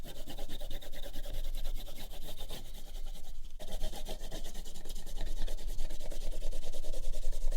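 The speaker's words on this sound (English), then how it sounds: "Not pressing too hard, just rubbing it back and forth." Crayon rubbed back and forth across paper to shade a whole page, giving a steady, close, continuous scratchy rasp with a brief dip partway through, no voices.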